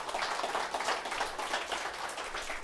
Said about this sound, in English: Can we have a round of applause for those sponsors,